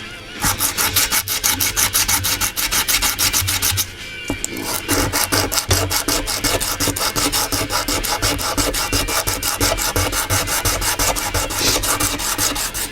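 Steady, continuous scraping of rough sandpaper against bone, rapid back-and-forth strokes close up, with a brief pause near the four-second mark.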